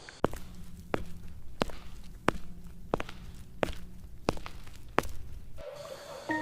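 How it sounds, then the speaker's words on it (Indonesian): Slow, evenly spaced footsteps thud one after another along a hallway, about eight steps, fairly close, in a quiet indoor space with no talking. "suara langkah kaki perlahan terdengar di lorong luar"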